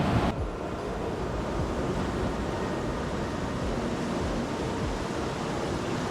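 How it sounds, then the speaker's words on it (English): Ocean waves breaking on the reef at Bells Beach at low tide, a continuous heavy roar of surf with wind buffeting the microphone, loud and close with no voices. "Waves ain't playing around."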